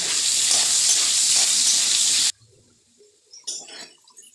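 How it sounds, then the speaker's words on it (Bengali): Salted potatoes frying in oil in a kadai with a loud, steady hiss of sizzling that cuts off abruptly, followed by near silence and a few light clinks and clatters. "এই কড়াতে বেগুন আলুগুলো ভেজে নেব তেলে আগে আলুগুলো ভেজে নেব"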